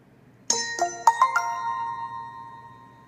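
Startup chime of an Alcatel Idol 3 Mini phone after a network unlock: a clear, loud run of four or five bright ascending bell-like notes, ringing out and fading smoothly with no talk.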